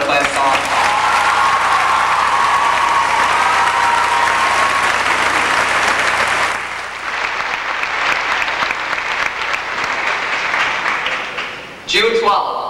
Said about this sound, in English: let's give us another round of applause for our class song